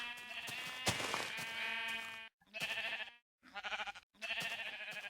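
Several Minecraft sheep bleat in quick succession, close and clear, with short silent gaps between the calls.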